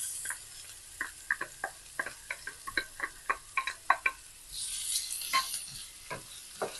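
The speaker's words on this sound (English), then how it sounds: "Now fry until you can smell the fragrance from the item." Garlic, shallot and ginger frying in oil over low heat, a soft sizzle under a string of light stirring clicks and taps, quiet and close with no talk.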